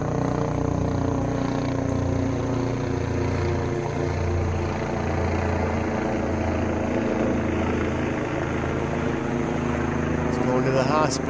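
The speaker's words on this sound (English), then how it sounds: "Let's get that helicopter as it comes over." A helicopter passes overhead on its way to a hospital, a loud throbbing rotor chop and engine drone that stays strong and close throughout, with someone speaking over it outdoors.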